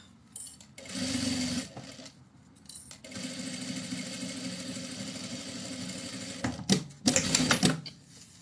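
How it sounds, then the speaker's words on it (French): A sewing machine stitches a zipper to the outer fabric of a small zippered pouch in steady motorized runs, with short pauses and a couple of louder bursts near the end, close and alone. "je viens coudre une première fois la fermeture avec le tissu extérieur"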